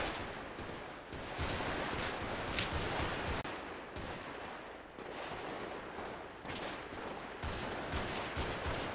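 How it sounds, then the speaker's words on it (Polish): Video game gunfire in a dense, continuous barrage of rapid shots and machine-gun bursts, loud and close, rolling on without pause for the whole stretch. "Strzelają!"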